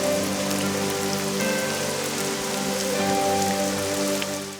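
Steady rain falls against a window, a dense continuous patter with no pauses, close and fairly loud throughout, with a faint low hum underneath and no voices.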